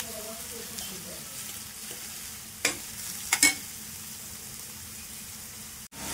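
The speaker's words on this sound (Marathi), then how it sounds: "आता कांदा आपल्याला व्यवस्थित गुलाबी रंगावर परतून घ्यायचा आहे।" Chopped onion being stir-fried in a pan until pink, a steady soft sizzle with a few brief spatula scrapes and clicks, fairly quiet and without talk.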